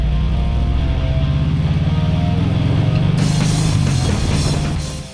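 A Harley-Davidson Sport Glide motorcycle engine rumbles steadily while riding on the open road, a deep continuous drone with wind noise rising partway through before fading at the end.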